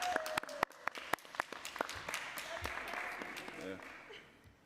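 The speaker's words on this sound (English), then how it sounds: "You all wish you could get that kind of clap." Applause in a city council chamber: scattered sharp claps at first build into a brief, moderate round of clapping from a small group, then fade as the room quiets.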